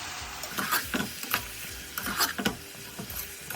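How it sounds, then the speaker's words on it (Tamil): Spice powder being mixed into gongura and snake gourd sabzi in a pan: close, rhythmic scraping and clacking spoon strokes over a soft sizzle, with no voices. "இப்போ இது எல்லாத்தையும் சேர்த்து மிக்ஸ் பண்ணிக்கலாம்."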